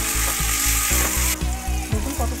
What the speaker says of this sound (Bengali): আদা বাটা দিয়ে ভালো করে এটাকে আবার নাড়াচাড়া করতে হবে